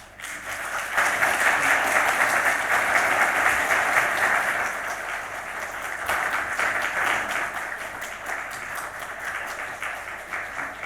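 A congregation at a Korean church's Sunday service in Chile breaks into loud, sustained applause for a retiring elder's award plaque, swelling quickly and then tapering off.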